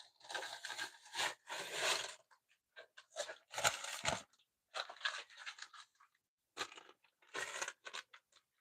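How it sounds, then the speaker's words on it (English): A brown paper Amazon bag is handled close up, crunching and crinkling in loud irregular bursts separated by brief silences. "I do like the crunchiness of a brown Amazon bag"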